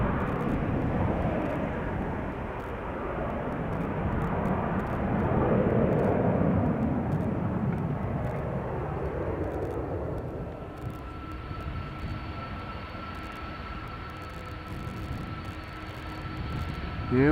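Delta Air Lines Airbus A330, about 20 years old, rolling for takeoff at Schiphol's Polderbaan bound for Detroit: a steady broad jet roar, loud and close, swelling near the middle and then easing into a thinner whine with a faint tone.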